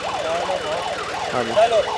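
An ambulance siren wails loudly and close by at a busy roadside farmers' protest, its rising and falling sweeps repeating steadily with street noise underneath.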